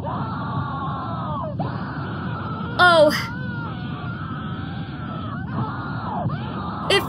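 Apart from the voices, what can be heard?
blood-curdling female scream in the suicidemouse.avi video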